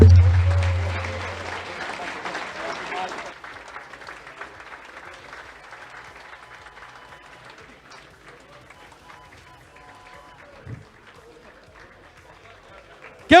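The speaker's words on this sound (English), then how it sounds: "Round of applause for everyone." A crowd at a robot fighting league trophy presentation gives a short burst of loud applause that cuts off after about three seconds, leaving quieter room noise and faint voices with a brief thump near the end.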